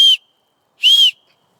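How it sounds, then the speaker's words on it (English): A tiny survival whistle from a Camillus Les Stroud survival knife gives two loud, shrill blasts, the first cut off at the start and the second longer, with silence between them. "it also comes with a whistle, so I'll blow it here for you guys."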